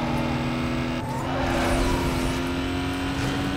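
A Porsche Panamera driving in Need for Speed Most Wanted: a steady, loud engine drone with a rising whine, a short dip around the first second, then holding strong over tire noise.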